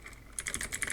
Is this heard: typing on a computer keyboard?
yes